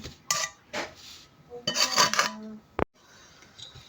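A brush scrapes in short strokes across a ghee-greased plate, then hot semai barfi mixture is tipped onto it with a soft rasp and a sharp metallic clink, over a quiet room.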